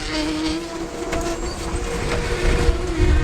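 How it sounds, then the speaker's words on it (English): A malfunctioning farm conveyor makes loud, rumbling machinery clatter and rattle continuously with a steady hum and irregular knocks, growing heavier toward the end. "We're gonna turn this conveyor on, make sure everything sounds..."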